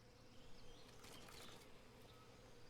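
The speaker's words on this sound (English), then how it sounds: "I hear bees" A faint, close buzzing of bees drones continuously in the stealth game Metal Gear Solid Delta, with soft wavering swells and no voices.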